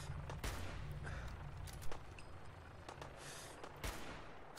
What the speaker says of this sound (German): Wer oder was schießt da auf mich?